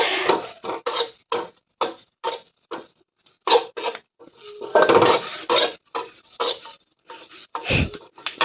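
Curry leaves dry-roasted in a pan for curry leaf powder, heard as a steady run of close, sharp scraping and clinking strokes of a spatula against the metal pan.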